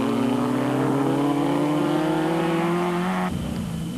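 Race cars at the 1996 Caledon 400 endurance race roar past in a close pack, loud sustained engine drones rising steadily in pitch before one cuts off abruptly and the note drops, continuous without speech.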